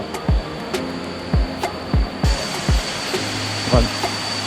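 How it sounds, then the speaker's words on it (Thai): A waterfall beside a hiking trail in Narathiwat, Thailand: a continuous rushing wash of water, with regular dull thuds like footsteps passing close by. "เดินคู่ไปกับน้ำตกไปเรื่อย ๆ"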